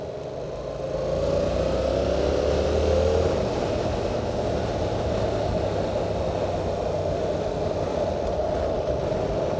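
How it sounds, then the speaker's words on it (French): A 2022 Yamaha R7 sport motorcycle with a quiet Euro 5 exhaust idles in a steady, subdued low hum that swells slightly early on, then holds level with no talking. "Ah, c'est une moto muette, ça fait bizarre."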